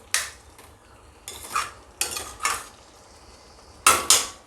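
A spoon scraping and stirring masala for a Vidarbha-style patodi rassa as it roasts in a pan on a low flame, with a handful of sharp metallic scrapes and clinks in uneven bursts over a quiet background.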